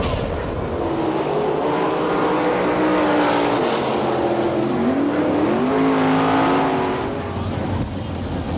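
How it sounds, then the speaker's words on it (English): Sprint race cars run on a dirt oval during warm-ups at a Wichita, Kansas NCRA All Stars event, a loud continuous engine roar with rising and falling pitch as cars circle, no talk over it. "We got cars on the track, and warm-ups are next."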